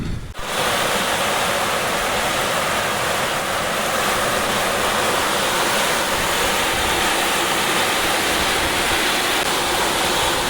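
Steady, dense hiss of heavy rain pouring down close by in a vineyard, constant and loud throughout with no voices.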